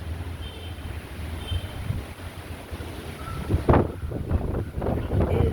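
A natural outdoor breeze rushes steadily across the microphone, with soft gusty swells and a few faint distant background noises.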